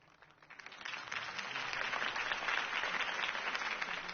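Crowd applause swelling after a political campaign speech by Harvey Dent, faint at first and building into a steady, distant wash of clapping that holds to the end.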